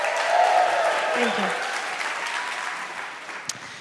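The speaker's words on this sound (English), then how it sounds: "You guys give a round of applause" Audience applause from a live seminar crowd, steady and full for a few seconds before tapering off, with a brief spoken thanks near the end.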